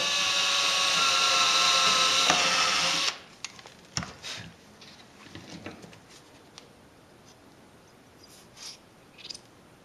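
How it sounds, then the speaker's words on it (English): A power drill whines loudly for about three seconds, then stops, followed by scattered clicks and handling noises. "drill a hole"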